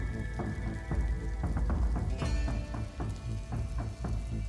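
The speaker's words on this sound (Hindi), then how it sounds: "बारिश में हम तो पूरी तरह से भीग गए।" Steady rain drumming on a hard surface, a dense continuous patter with scattered heavier drops, loud and close throughout with no voices.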